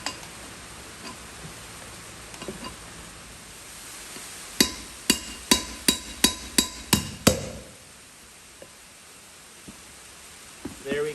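A quick run of about eight sharp metallic hammer strikes on a brass drift, seating a GMC motorhome rear wheel bearing, rings out in steady rhythm, loud and close, with faint shop noise before and after.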